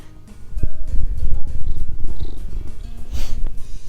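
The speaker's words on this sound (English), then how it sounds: "my cat Hayden wanted to say something" A cat purrs loudly and close, a continuous low rumbling vibration with a few brief clicks and shifts in intensity.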